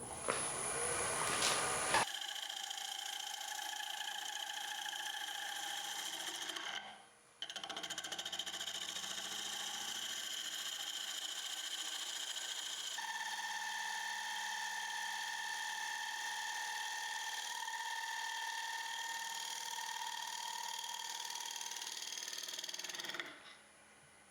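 A wood lathe spins a DIY cocktail smoker part while a tool shapes it, giving a sustained whine with tonal hum. A short dip in the sound comes early, then the cutting continues steadily at a moderate distance, with no voices.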